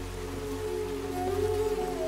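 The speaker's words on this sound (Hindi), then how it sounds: "वहां पहुंचने से पहले इसी तरह से बारिश आई थी" Rain falls steadily as a continuous hiss with a low rumbling undertone, even and moderately loud throughout, with no voices.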